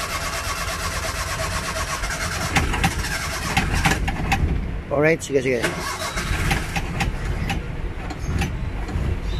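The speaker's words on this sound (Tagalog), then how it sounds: "Tahimik din ang makina." A manual car fitted with hand controls runs steadily, its engine a constant low hum under speech from people inside, with a brief mechanical squeal partway through.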